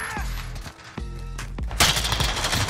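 Gunfire in a Modern Warfare multiplayer match: a few sharp close shots and short bursts, followed by a louder burst of rapid fire at the end, with muffled game noise between them.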